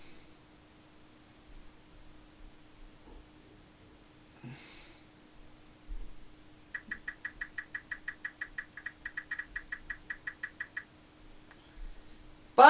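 Prize wheel spinning in the SNES game Wheel of Fortune Deluxe Edition, a run of about twenty evenly spaced electronic clicks ticking steadily for several seconds over a quiet low hum.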